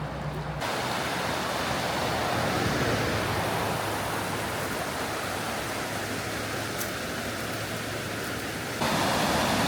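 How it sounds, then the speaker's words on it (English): White water rapids on a river near Murphy, North Carolina, rush as a steady, loud broadband roar close by, holding constant for most of the stretch with no voices. "There is a little bit of white water"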